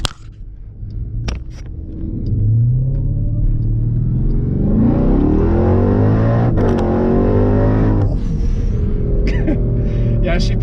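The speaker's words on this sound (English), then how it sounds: "the sound of the Hellcat engine is just crazy, and it sounds awesome" Jeep Grand Cherokee Trackhawk with its supercharged Hellcat engine revving up hard, a loud swelling engine roar with rising pitch sweeps lasting several seconds, heard from the cabin.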